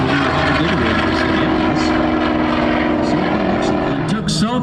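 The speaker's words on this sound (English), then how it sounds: "And finally, the Skyraider." A Skyraider warbird propeller airplane flies at a Miramar air show, its steady droning engine roar loud and continuous with rich harmonic hum, while a voice talks over the top.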